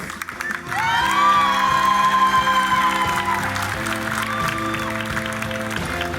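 Audience applause for a singer at a televised singing contest: a dense, steady clapping with scattered cheers and whoops, swelling loudly after the first second and holding to the end.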